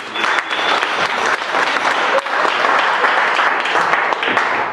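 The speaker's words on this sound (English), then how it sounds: "So round of applause. Come on, please." A room full of people claps loudly and steadily, sustained applause with no pauses.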